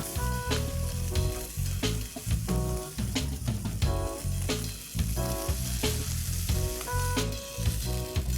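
Potato pancakes fry in hot oil in a pan, a loud, continuous crackling sizzle heard close up over a steady low hum, with no talk.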